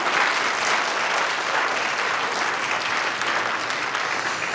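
An audience at a middle school winter band concert applauds, a dense and steady wash of clapping that continues at even loudness throughout.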